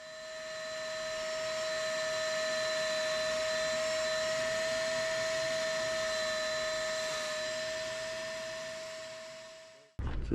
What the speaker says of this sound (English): get the hoover back on there